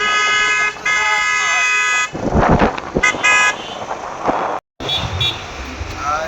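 Heavy traffic on a road behind a group of riders heading toward Beldanga, with long car horns blaring and overlapping, engine rumble and wind noise, and voices talking over it.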